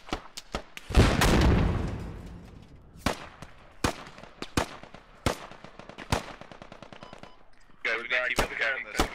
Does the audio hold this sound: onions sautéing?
no